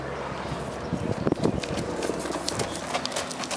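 Horse cantering on an outdoor riding surface, hoofbeats drumming in quick repeated clusters close by, with a rider's voice briefly heard alongside.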